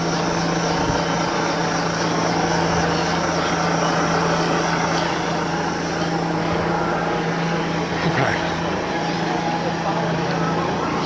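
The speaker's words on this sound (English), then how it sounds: "The police chopper's flying really low." A police helicopter flies low overhead, its steady rotor and engine roar continuous and loud throughout, with a voice speaking underneath it.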